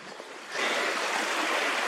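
River water rushes in a steady, broadband wash close by, and it grows noticeably louder and fuller after the first half second.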